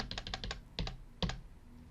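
Computer keyboard typing while deleting code in a C# console program: a quick run of light clicks, then a couple of sharper, heavier key presses, close and clear with no talking.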